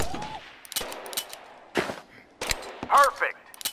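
Gunshots ring out in Gun Club VR, a handful of sharp, separate pistol cracks spaced irregularly over a few seconds, with brief vocal sounds between them.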